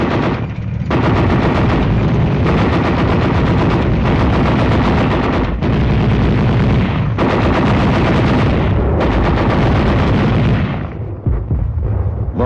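Heavy enemy gunfire and artillery during a night tank company attack, a dense, continuous roar of shots and blasts, loud and sustained throughout with no voices.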